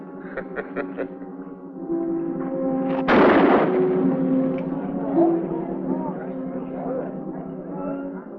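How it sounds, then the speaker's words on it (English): A single loud gunshot rings out at a shooting match in an old Western setting, a sharp broadband crack followed by a decaying echo, with voices and other sounds of the match around it. "You have to keep shooting at his head like that?"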